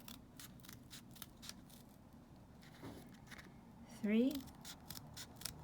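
Scissors snip along a drawn line in paper with quick, rhythmic, close-up cuts, while a voice counts aloud over them.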